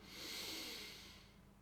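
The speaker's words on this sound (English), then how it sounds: "Take a deep breath in with the nose. And exhale with the mouth." A single deep breath drawn in through the nose and let out through the mouth, a soft close airy rush that swells and fades away, quiet and alone.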